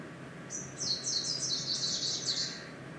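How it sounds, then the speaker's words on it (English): Northern greenish warbler song: a long, varied run of high, thin chirping phrases repeated rapidly, fairly close and clear over faint background hiss, with no voices. "Here's the song of the greenish, the northern greenish."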